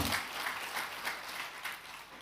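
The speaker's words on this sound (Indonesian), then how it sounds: "Tepuk tangan kalau setuju saudara." A church congregation claps together in a short, steady burst of applause, fairly soft and slightly distant, with no voices over it.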